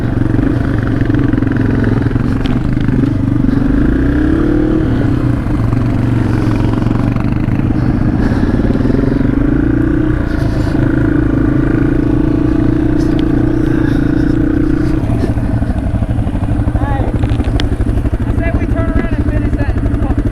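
A Yamaha TW200 motorcycle engine drones steadily while riding a trail near Tetonia, Idaho, loud and close with a rumbling hum and shifting pitch as the throttle varies, along with faint rattling and some voices in places.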